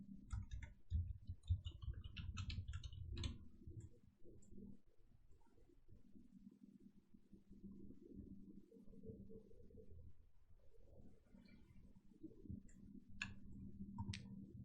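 Fingers type on a computer keyboard, a faint run of quick, light clicks near the start and a few more near the end over a quiet room hum.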